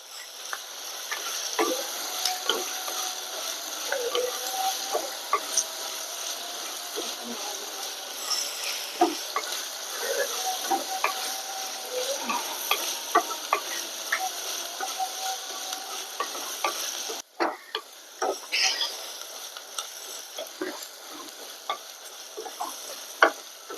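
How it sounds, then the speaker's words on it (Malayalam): Onions sautéing in a pan for crab curry, cooking until they turn brown: a continuous moderate sizzle with scattered clicks and scrapes of a spatula stirring throughout, briefly interrupted near the end. "ഉള്ളി നന്നായിട്ട് വഴന്ന് വരുന്നുണ്ട്, കളറ് മാറി വരുന്നുണ്ട്"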